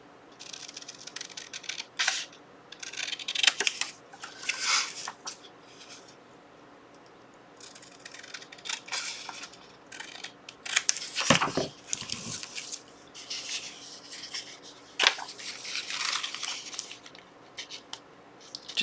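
Scissors cutting the side off a coffee-dyed paper envelope, a series of crisp snips and crunchy paper rustles in several bursts, close and moderately quiet.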